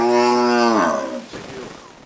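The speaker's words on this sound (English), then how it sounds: "a herd of cows comprising of Boran and crossbreed cattle" A herd of Boran and crossbreed cattle on a prison farm gives one long, loud, close moo that slides downward and fades into breathy noise.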